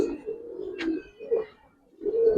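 Giribaz pigeons coo in a few low, throaty phrases separated by short pauses, heard close by, with a brief higher flutter-like sound in between.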